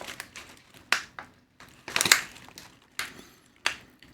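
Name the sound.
crunching crunchy nuts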